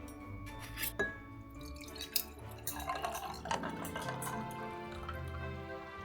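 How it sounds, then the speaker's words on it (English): A cranberry holiday drink is poured into a glass, giving a soft liquid trickle and dripping with light clinks of glass and ice nearby. "So now I'm going to take my drink and I'm going to pour it right in."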